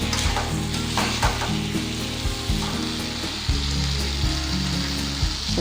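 Okra stir-fry sizzles and crackles steadily in a hot pan while it is stirred, with scraping strokes of the spoon recurring throughout and no voices.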